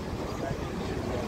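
A passenger ferry pulls in toward Eminönü pier in Istanbul, its engine rumble and water wash forming a steady, loud low-frequency wall, with wind buffeting the microphone and a voice talking over it.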